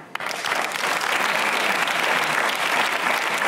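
Steady, dense applause from a TV talk show studio audience, loud and continuous throughout, with no voices standing out.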